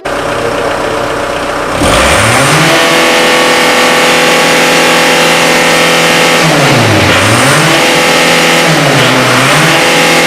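Car engine revved hard as the accelerator is stamped on: a loud, close roar that jumps up from idle, then climbs and falls in repeated sweeping revs with no one speaking.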